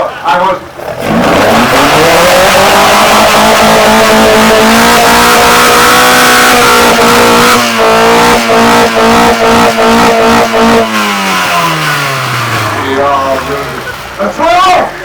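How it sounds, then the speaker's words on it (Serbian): A carburetted car revs hard at a car sound competition, its loud engine climbing and holding high before dropping away, with people talking over it close by. "Želite da čujete ovaj auto ili šta?"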